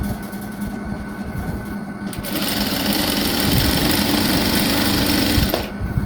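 A sewing machine stitches fabric for a hijab in a fast, steady mechanical whir that rises as the motor speeds up, loud and close, running continuously before a brief slowdown near the end.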